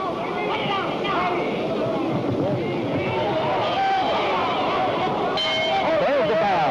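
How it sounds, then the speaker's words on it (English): A single ring-side bell rings to end round 3 of a heavyweight boxing bout at the Convention Center in Louisville, Kentucky. It comes briefly over a steady crowd roar, with a commentator talking throughout. "There's the bell."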